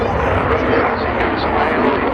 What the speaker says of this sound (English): Teddy Meister is accelerating for his final fast pass.